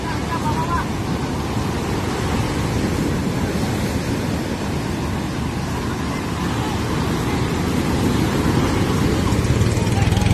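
Continuous roar of heavy surf and large crashing ocean waves, dense and loud throughout, with wind-like rushing noise and no clear pauses.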